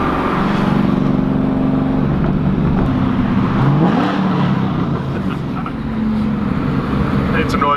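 A Trans Am WS6 engine drones inside the cabin on a city drive among other cars, then swells into a short rising rev midway before settling back to a steady loud rumble.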